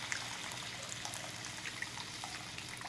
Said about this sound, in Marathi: आपण ते पाणी त्यात घालायचं आहे